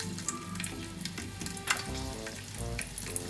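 Green chilli sizzles and fries in hot oil in a frying pan, a steady close crackle with scattered pops and stirring clatter, with no voices.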